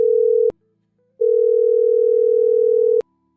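A telephone line gives a loud, clear, steady dial tone: a brief burst, a short gap of silence, then a longer continuous tone before it cuts off, with no voices.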